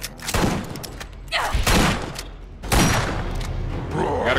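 Gunfire in the video game Borderlands as players shoot at a zombie, with repeated loud bursts of shots and heavy thumps crowding together over a few seconds.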